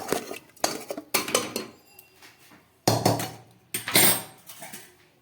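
Meat and fried potatoes tipped into a pressure cooker, several sharp metallic clanks and scrapes of a utensil against the pot in irregular bursts with quiet gaps between, close up and without talk.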